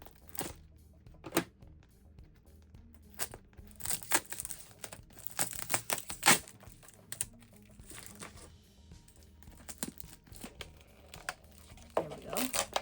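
Sticky tape crinkles and tears in sharp, irregular bursts while a houseplant package is unboxed, with quiet gaps between handling sounds.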